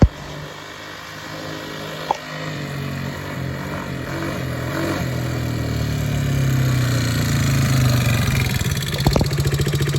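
Chinese scooter-style ATV quad with no air filter and a diaphragm carburetor, its small engine running steadily and a little unevenly, idling with gradual revving and a few sputters, close by.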